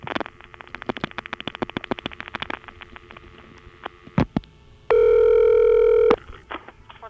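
A 1970s Traffic Service Desk line after dialing a 0+ call in the 914 area of New York: rapid clicking pulses, then a loud steady multi-tone signal holding about a second, followed by more clicks.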